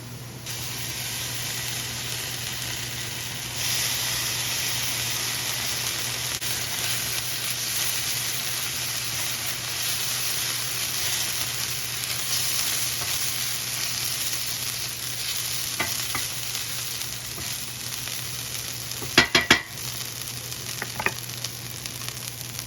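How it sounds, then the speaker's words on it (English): Chopped onion with ginger garlic paste sizzles and fries steadily in a pan for a lamb masala gravy, a continuous hiss with a few sharp clinks of a spoon stirring near the end. "Keep saute until onion changing to brown."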